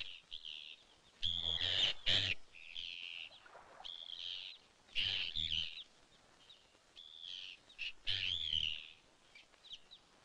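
Arctic terns call from a beach in a series of harsh, grating cries, several bursts spaced over ten seconds, moderately near against a quiet background.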